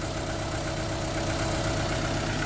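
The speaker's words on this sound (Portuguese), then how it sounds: "Agora ele regulou um pouquinho, o motor tá frio e ele tá tremendo mais ainda" A cold car engine that has lost power idles roughly and shakes, giving a steady, close, rumbling drone with no voices over it.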